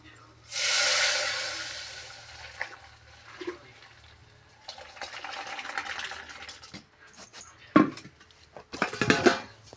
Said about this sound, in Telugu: చారు తాలింపులు వేస్తాను